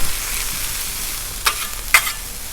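Pork chops and potatoes frying in oil on a Blackstone griddle, giving a steady close sizzle with two brief louder bursts of crackle partway through, no voices.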